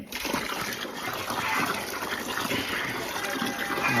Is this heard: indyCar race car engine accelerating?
no